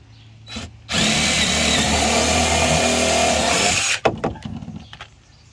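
A power drill whines loudly for about three seconds, boring a hole through a plastic barrel for a cheap raised garden bed, with faint clatter just before and after.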